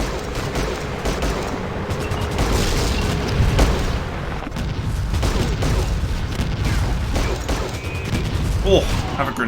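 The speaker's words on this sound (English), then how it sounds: "Oh, have a grenade." A grenade explodes during a Fallout Tactics battle, a heavy boom set among crackling gunfire and dense combat noise that stays loud throughout.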